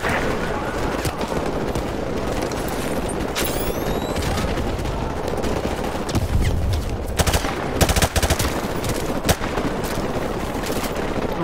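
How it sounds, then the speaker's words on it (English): Machine gun fire in Call of Duty 4 Modern Warfare Remastered: dense, loud bursts of rapid shots and impacts crackle throughout the fighting, with scattered single shots and booms, and a voice talks over parts of it. "Dia pakai machine gun ya."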